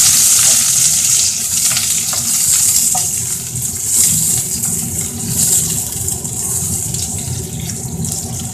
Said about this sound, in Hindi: प्याज मैंने डाल दिया, अब मैं ऑयल भी डाल दूँगी।